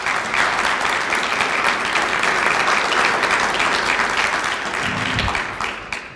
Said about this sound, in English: I would request, I think they deserve a good round of applause